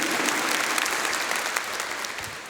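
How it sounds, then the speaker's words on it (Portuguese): Congregation applauding at Sunday Mass, a dense, steady wash of hand claps filling the church at a constant loud level with no voices over it. "Só dá uma salva de palmas"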